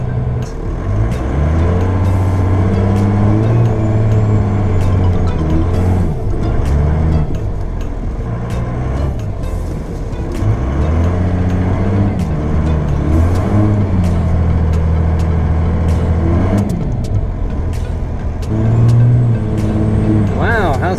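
Cummins-powered truck driving through snow in 4-wheel drive, a steady low engine drone running throughout with swells as it pulls, while people talk over it.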